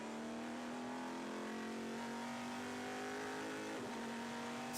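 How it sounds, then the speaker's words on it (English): Race cars battle on the straight at a Dutch Supercars event at the Zolder circuit, a loud sustained engine drone with a steady high-pitched tone heard from on board, continuous throughout. "It's fight for 8th place on the straight, and he's next to him on board with Arnie van der Hoek"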